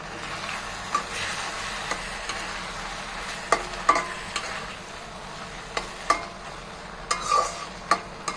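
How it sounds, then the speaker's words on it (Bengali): Tomato slices fry in oil with cooked-down spices for a baim fish bhuna, a steady close sizzle punctuated by regular sharp spatula scrapes and clicks against the pan, with no voices. "এখন টমেটোটা এক দুই মিনিট একটু কষিয়ে নিব"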